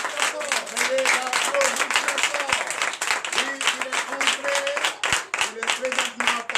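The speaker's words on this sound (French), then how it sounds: "Je vous demande d'applaudir très fort" A congregation at a night deliverance church service claps in a steady rhythm, loud and close. Voices call out and sing along throughout.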